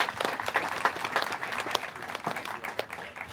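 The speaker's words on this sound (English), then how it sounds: "So give a round of applause for Nina." Audience applause for a speaker at a coastal protection event, steady dense clapping from a crowd throughout, fairly close and even in loudness.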